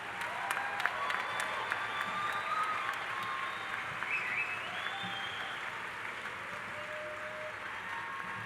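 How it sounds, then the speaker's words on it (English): A large crowd at a university spring commencement ceremony applauds graduating bachelor's degree candidates, a broad, steady roar of distant clapping and cheering with a few whistles rising above it. "You can give them a round of applause,"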